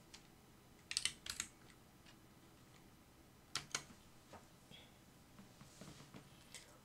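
Computer keyboard typing with a few quick clustered keystrokes and separate sharper presses of the enter key, close and fairly quiet against a soft room background with no talk.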